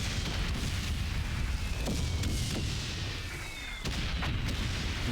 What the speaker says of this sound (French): Allez, tire au canon